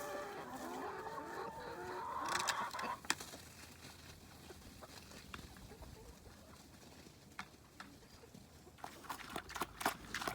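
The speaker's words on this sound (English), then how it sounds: "Come on, chickens, come get your breakfast." Backyard chickens cluck and chatter faintly at morning feeding time, with scattered clicks and light knocks in the background.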